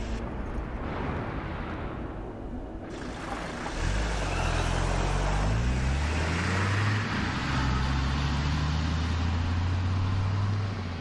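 A car in the horror video game The Quarry revs up and pulls away; a rising engine whine climbs through the gears and settles into a loud, sustained drone with no talk over it.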